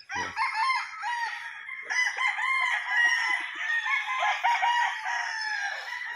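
Several gamefowl roosters at a game farm crow loudly and repeatedly, their long calls overlapping one another almost continuously with no pause.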